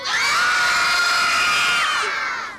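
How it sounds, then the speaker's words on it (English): A group of children at a fire department safety session screams together in one loud, sustained shout that lasts about two seconds before fading out. "can you all scream for Ivan?"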